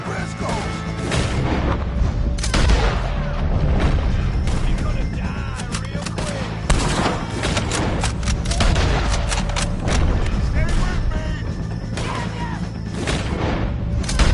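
Gunfire in a shootout with O'Driscolls in the Red Dead Redemption 2 video game: loud, dense volleys of rifle and pistol shots cracking and booming in irregular bursts across the whole stretch, with shouting voices mixed in.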